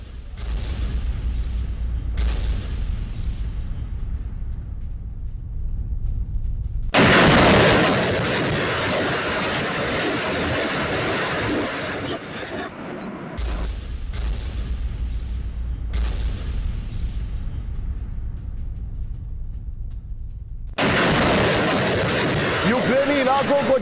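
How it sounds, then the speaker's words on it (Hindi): A Russian flamethrower system attacking a Ukrainian base sets off a series of heavy booms, several loud blasts swelling into long, dense rumbling roars. A news voice talks over them. "फ्लेम थ्रोअर सिस्टम से रूस का विध्वंसक हमला।"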